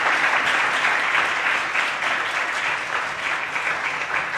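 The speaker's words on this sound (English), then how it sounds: "I think Professor Stannering deserves another round of applause, if you could." Steady, full applause from an audience at an academic early career researchers event, continuous and even from start to finish with no pauses.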